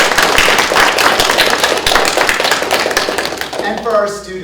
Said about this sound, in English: can we give them a round of applause for being here today?